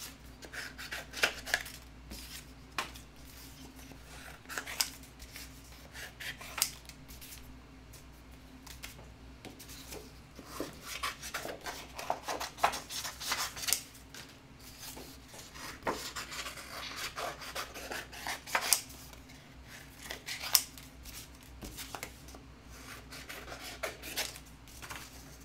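Scissors cutting out paper pieces for a mixed media book, giving irregular snipping and rustling rubs close by that run throughout, with no speech.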